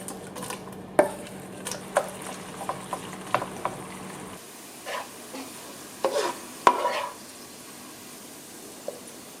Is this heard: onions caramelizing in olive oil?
yes